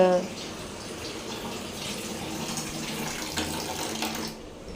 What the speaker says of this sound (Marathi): आता याच्यामध्ये मी पाणी घालते गरम पाणी